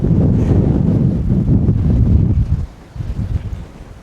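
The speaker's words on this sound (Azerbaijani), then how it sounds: "Güclü külək əsir həddən artıq." Strong wind gusts roar across a hilltop with fortress ruins on the Gilgilchay defensive wall near Beshbarmag mountain in Azerbaijan, buffeting the microphone loudly and continuously, then easing briefly near the end before picking up again.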